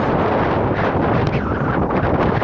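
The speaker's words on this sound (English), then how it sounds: "Why is it so windy?" Strong gusting wind roars across the microphone continuously, a loud, dense rumble with no break.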